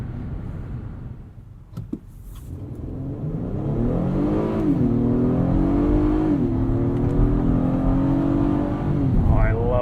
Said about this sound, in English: The way this V6 sounds.